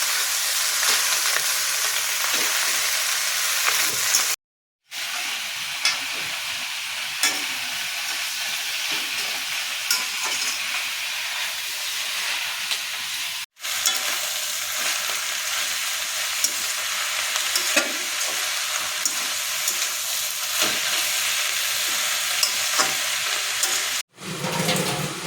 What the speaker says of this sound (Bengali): আমার কচুর মানে ঘেটকোল পাতা বা খারকোল পাতা অনেকটা ভাজা ভাজা হয়ে গেছে